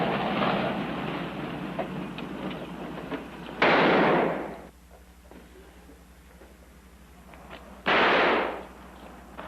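Two loud gunshot blasts from a highway patrol standoff, one around the middle and another near the end, each ringing out briefly over a steady background hum with no talk.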